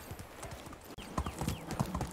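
Horse hooves clip-clop at a steady walking rhythm in the medieval life-sim game Medieval Dynasty, close and clear, with a brief dropout partway through and no speech over them.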